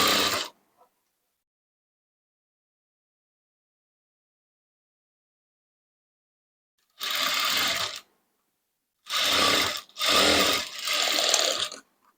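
A sewing machine stitches the puff of a princess-cut blouse, running in a short burst, then pausing before several more bursts of steady mechanical whirring, with no talk.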